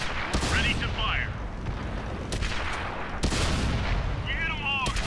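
Tank cannon fire in the World of Tanks video game: repeated sharp booming shots, with one heavy blast midway, over a continuous dense battle rumble and voice chatter.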